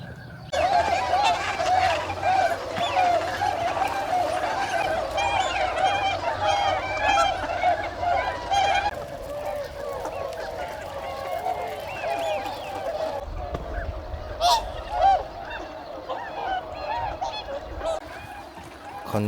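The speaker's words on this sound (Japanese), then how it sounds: "鳥の鳴き声がめっちゃしてますね。 白鳥だけじゃないんですね。 なんかカモみたいなのがたくさんいます。" Swans and many ducks call at a snowy pond in a heavy-snow hot spring area, loud overlapping honks and quacks in a busy chorus that thins out toward the end.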